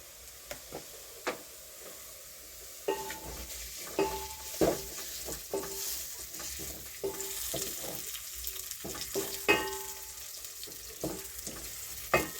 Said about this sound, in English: We fry the onions and we get ready to the cooking.